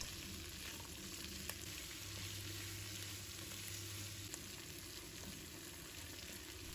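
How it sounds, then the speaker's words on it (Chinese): Garlic slices, scallion pieces and onion stir-fried with pan-seared spare ribs in hot oil, a steady low sizzle with faint scraping of the spatula, moderately quiet and without talk. "我们再把蒜片、葱段、洋葱加进来，把它们炒出香味"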